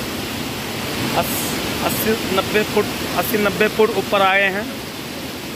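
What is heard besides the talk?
Amboli Ghat waterfall, strong water flow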